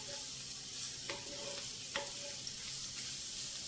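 Radish fries for a curry in a pan with a soft, continuous sizzle, broken by two or three faint scrapes of a spoon stirring. No voices.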